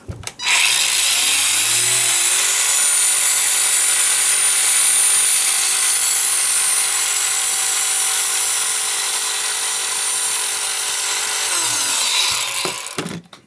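A HAISSER GA-212S cordless angle grinder set to its maximum speed setting of 6 spins up, runs loud and steady with a high whine for about eleven seconds, then winds down.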